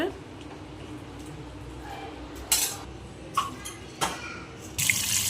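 Hot water drained from boiled macaroni through a strainer into a container below, a steady watery rush with sharp metallic clinks and clatters of the pot against the strainer, while a person speaks.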